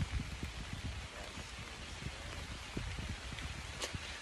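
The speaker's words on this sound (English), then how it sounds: "Oh, it's really raining now." Heavy rain falls steadily on a surface with a soft, continuous patter and scattered heavier drops, fairly quiet and with no voices.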